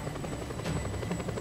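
A helicopter in Just Cause 2 chops rapidly and steadily with its rotor, fairly loud and close, with a high tonal whine above it.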